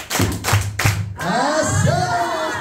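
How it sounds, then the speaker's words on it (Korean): A group at a laughter-therapy gathering claps three times in loud unison, heavy synchronized smacks in quick rhythm, then voices break into cheerful whooping and chatter. "박수 시작"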